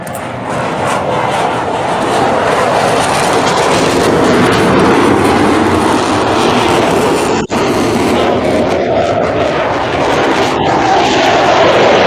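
Aircraft engines roar overhead at the EAA AirVenture Oshkosh airshow, a loud, continuous broadband drone that holds steady for the whole stretch with no talk over it.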